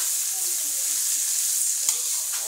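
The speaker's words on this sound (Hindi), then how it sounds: "तो हम इसमें डाल देंगे ये शिमला मिर्च। इसको हम 2 मिनट के लिए भूनेंगे" Onion and capsicum frying in a pan give a steady, close hiss of sizzling that stays even throughout, with only a small bump near the end.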